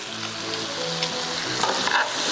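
Pepper steak with lots of peppers sizzling and frying in a pan as it is stirred, a steady close crackling hiss with occasional scraping bursts.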